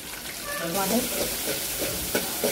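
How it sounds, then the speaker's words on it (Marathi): Curry leaves and asafoetida crackle and sizzle in hot oil for a tempering, a dense close hiss broken by light pops and spatula stirring. "कढीपत्ता टाकून घ्यायचा, कढीपत्ता पण छान परतून घ्यायचा आहे।"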